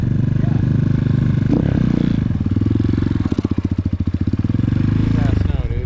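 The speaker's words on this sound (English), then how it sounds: "I was like revving my engine" An X-Pro Titan 250cc motorcycle engine revs at a motocross park in loud, rapid chugging pulses that swell and fade, with voices nearby.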